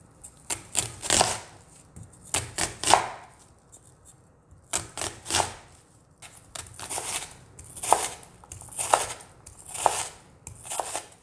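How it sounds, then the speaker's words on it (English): Peppers and other vegetables being diced small with a knife on a cutting board for sweet potato chili: rapid, close, crisp chopping taps in quick bursts separated by brief pauses. "So I like to dice my peppers and my veggies in general nice and small, just so that they cook faster"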